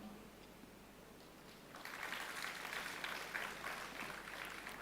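An audience at a Nithya Kriya yoga talk on Siddha medicine breaks into applause after a quiet start, a faint, distant patter of many hands that carries on to the end.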